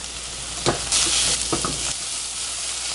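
Garlic sizzles steadily in a hot pan, with a few scraping stirs punctuating the crackle up close.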